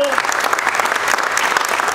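A crowd applauds throughout at a charity card tournament, giving a dense, even wash of clapping that holds steady for two seconds.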